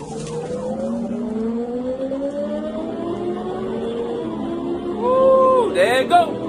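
Sport bike engine revving and accelerating during a police chase in Florida, rising whine sweeping upward through gears, moderately distant, with a sharp burst of revs near the end.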